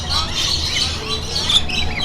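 Lorikeets squawk and chirp in a busy feeding aviary at an aquarium, a dense, steady wash of shrill calls close by with faint background murmur.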